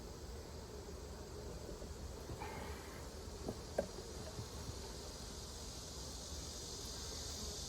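Honeybees hum as a faint, continuous buzz around beehive frames outdoors. Now and then an individual bee passes close by.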